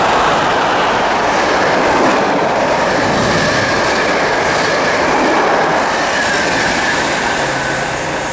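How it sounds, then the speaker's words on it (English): A Norwich to London Liverpool Street passenger train roars loudly through Romford station on the Great Eastern Main Line, a steady rushing rumble with rail clatter and faint wheel squeal that barely fades as it passes. "passing now, we've got a service from Norwich to London Liverpool Street"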